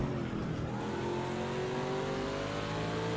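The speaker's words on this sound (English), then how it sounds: "So LMP2 making their way back through once again." LMP2 prototype race cars pass on track at Watkins Glen during a six-hour race, a fairly faint but steady engine drone with a rising pitch as they go by, with no talk.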